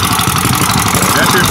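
An antique Clinton small engine, a vertical motor mounted horizontally with a heavy aluminum flywheel, runs steadily and close, a loud continuous chugging putter with rapid firing pulses throughout.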